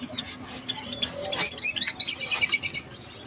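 Small birds in a bird shop chirp and tweet in a rapid run of bright, close calls that rise into a dense burst, over faint background noise.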